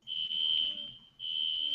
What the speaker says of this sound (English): the fire alarm is going off in Andrew's apartment